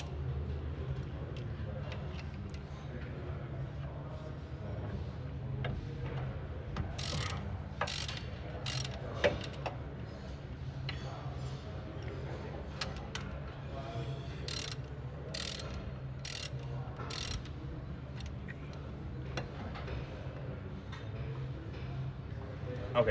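A ratchet clicks in rapid bursts while brake caliper bolts are loosened on a 2008 Ford Ranger's front brakes, sharp metallic ticking runs repeatedly over a low hum, and a person talks between bursts.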